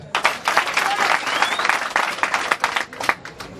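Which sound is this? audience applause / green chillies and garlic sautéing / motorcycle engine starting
audience applause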